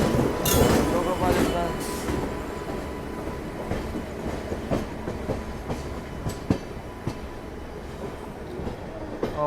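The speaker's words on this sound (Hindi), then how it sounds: "और हमारी ट्रेन बढ़ चुकी है अपने लखनऊ वाले रूट पर।" Amrit Bharat Express train rolling along the Lucknow route, heard from on board, with rhythmic wheel clatter, rumbling carriage noise and occasional clanks, strongest early on, with a voice speaking over it.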